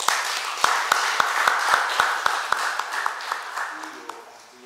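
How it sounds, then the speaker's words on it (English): A short round of applause from a studio audience or panel on an agricultural talk programme, a handful of distinct claps over a general patter that thins out and fades toward the end, with some murmuring voices. "I think they deserve a round of applause while welcoming us."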